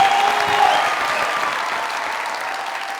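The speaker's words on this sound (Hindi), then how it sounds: "जोरदार तालियां।" Loud, dense applause from a comedy show audience rolls steadily for a few seconds, near and continuous, fading only slightly toward the end.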